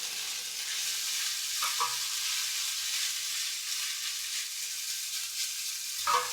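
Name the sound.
vegan ground pork sizzling while being stirred in pan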